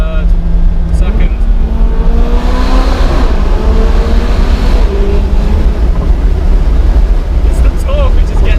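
McLaren 570GT engine revving loudly through downshifts inside a tunnel, a steady roar with rising and falling pitch sweeps echoing off the walls, heard from the cabin under occasional voices.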